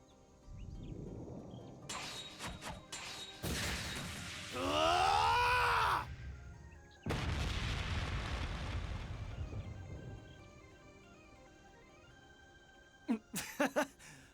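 The Ungula barrage in the video game Trails Beyond The Horizon sounds as a series of loud, heavy explosive bursts, one with a rising and falling whooshing tone, followed by a fading rumble and a few sharp final cracks.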